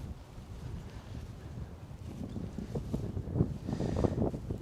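Strong wind in a cemetery buffets the microphone with a steady low rumble and gusty swells that build louder toward the end, with no talking.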